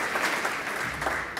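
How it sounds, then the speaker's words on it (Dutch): An audience claps warmly at a Dutch municipal election debate about EV charging points, a brief, dense burst of applause filling the room with no speech over it. "mag ik een hartelijk applaus ook voor hun"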